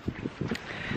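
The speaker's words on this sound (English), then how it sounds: "Sorry, it's very windy now." Wind blows outdoors in Ireland, a steady rushing buffet against the microphone with low thumping gusts, fairly faint overall.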